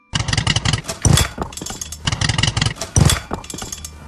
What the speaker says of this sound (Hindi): ये क्या हो रहा है? बाइक क्यों बंद हो रही है? ओ नहीं, पेट्रोल खत्म हो गया है।